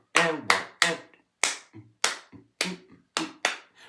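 Hands clap out an uneven, syncopated rhythm of about eight sharp claps spread over four seconds, close and crisp, with off-beat gaps and no talking.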